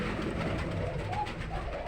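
Soft cooing of Arabian white pigeon squabs over a dense, steady background rumble, close by and continuous for a brief moment.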